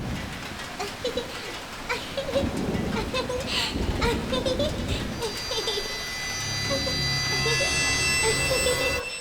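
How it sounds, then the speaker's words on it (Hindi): Steady rain falls through a film scene, a dense hiss with scattered drops and a low rumble, while a tonal hum swells near the end. "लेनी, भीग जाओगे लेनी।"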